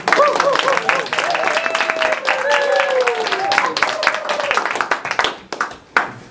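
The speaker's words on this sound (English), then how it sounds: "applause, please." A Toastmasters audience breaks into applause, dense clapping from a room full of people filling the stretch, with a voice speaking over it before the clapping thins into a few last scattered claps.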